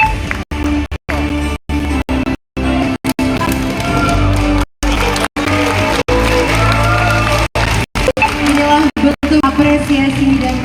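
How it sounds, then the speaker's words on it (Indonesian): Loud audience applause at a Kosgoro 1957 national congress ceremony, a dense continuous wash of clapping with some cheering and music underneath, broken by several brief dropouts. "Boleh berikan tepuk tangan yang meriah."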